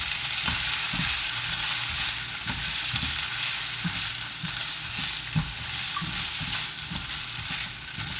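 Scallops stir-fry with mirin in a hot pan, giving a constant bright sizzle broken by regular clanks and scrapes of the spatula against the pan.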